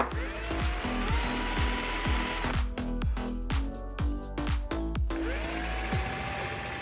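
A power drill widening holes in a board for screw heads, with a repeated whir and sharp bite as the bit spins up and cuts, under a steady high motor whine.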